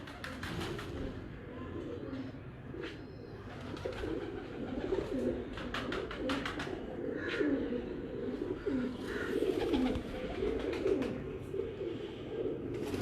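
Lal Pari breeder pigeons coo in a steady low murmur throughout, several birds overlapping close by, with a voice talking faintly underneath.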